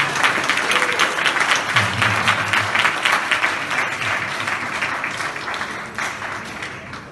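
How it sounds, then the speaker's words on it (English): Audience applause fills a community talk session, a dense, steady wash of many hands clapping at close range that holds for several seconds before gradually thinning out, with no voices over it. "Round of applause to DR.Afrika"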